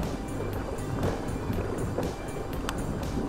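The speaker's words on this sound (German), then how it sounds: "hier ist ein bisschen windig hier oben" Wind buffets the microphone on a hilltop above Gevelsberg during an e-bike ride, a constant roaring rush with gusty swells and no clear speech.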